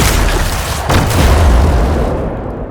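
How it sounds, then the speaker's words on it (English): A close explosion on impact in an Unreal shooter video game blasts out as a dense, loud, sustained boom with a deep rumbling tail, heard alone. "For the explosion it causes on impact, I used a blend container connected to the explosion's distance"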